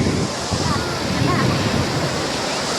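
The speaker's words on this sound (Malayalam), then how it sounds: "നമ്മൾ ബീച്ചിലെത്തിയിട്ടുണ്ട്. ഇതാണ് ബീച്ച്." Ocean waves washing onto a beach make a steady, loud broadband roar with wind buffeting the microphone, continuous for the whole stretch with no clear breaks between surges.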